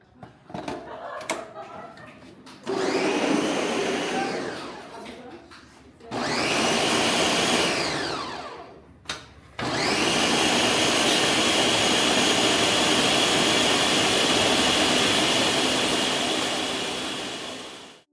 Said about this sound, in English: I did not expect a blender to make an appearance.